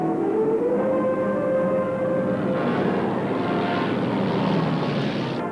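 A propeller airplane drones steadily overhead, a loud continuous engine hum with a rising and falling whine throughout, in footage from the 1955 Motogiro d'Italia.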